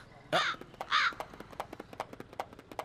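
Crows caw in harsh, loud repeated calls, two prominent caws near the start followed by a stream of quicker, softer clicks and caws from several birds close by.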